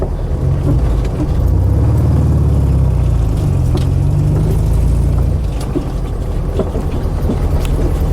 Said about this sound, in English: Gee, Volkswagen's a fun ride, isn't it?